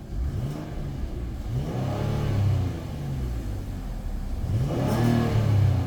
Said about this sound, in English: let me sit down inside and rev it up for you so you can hear this engine